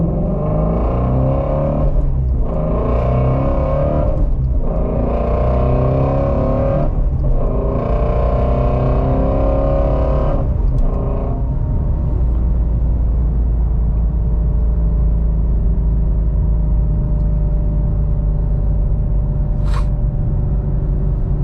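Ford Shelby GT350 engine revving while driving, a loud steady rumble with several rising rev surges in the first half before settling into a smoother cruising drone.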